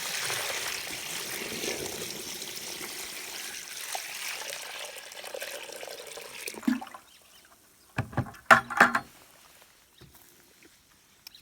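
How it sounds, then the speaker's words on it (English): Water is poured steadily into a bucket of recycled clay, a continuous splashing pour that fades out, followed by a few short, louder knocks and sloshes near the end. "So I'm going to pour this in."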